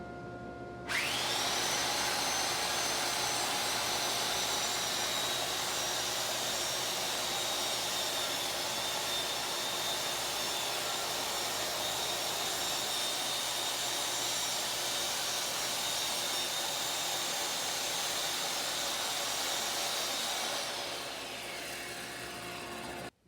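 A saw cuts a wooden porch post along a True Track guide, a steady, loud, high-pitched whine that starts abruptly and runs unbroken for about twenty seconds before winding down.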